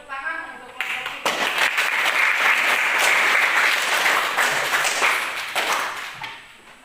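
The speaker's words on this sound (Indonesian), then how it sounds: "Tepuk tangan untuk kelompok kita." Classroom applause from schoolchildren clapping for their group during a lesson, a dense burst of many small hands rising quickly and holding steady for several seconds before tapering off, with a voice briefly audible at the start.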